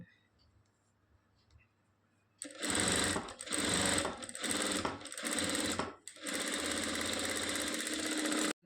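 An electric sewing machine stitches a long blouse, starting after a quiet lead-in and running in loud, steady bursts with brief pauses between runs, then a sustained final run.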